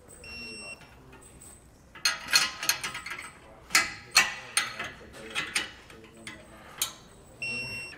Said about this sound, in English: You'll wanna torque these 8 bolts to the specifications in your instructions.